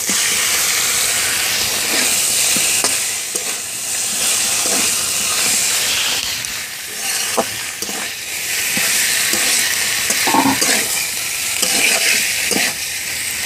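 Chicken pieces just added to onions in a hot pan sizzle loudly and steadily, a constant hissing fry close by, with occasional scrapes and knocks of stirring and no voices.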